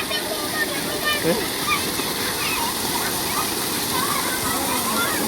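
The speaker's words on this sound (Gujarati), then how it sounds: "કેટલું પાણી પડે ભાઈ" A waterfall roars steadily at the Sandhida Mahadev temple, a dense, loud, close rush of falling water and splashing while people talk and call out over it.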